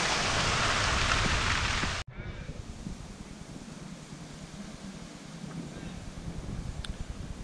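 Heavy rain pours down in a dense, loud hiss for about two seconds, then cuts off abruptly, leaving quieter dripping and low outdoor ambience near a boat.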